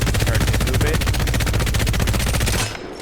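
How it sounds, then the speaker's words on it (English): Rapid automatic hip-fire from a gun in Apex Legends, a dense, loud, unbroken burst of shots lasting over two seconds before stopping abruptly. "if I start shooting without ADSing"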